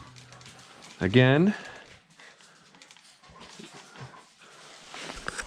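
Dogs whimper and whine, a high sharp cry near the start followed by softer restless noises and movement, with someone speaking briefly.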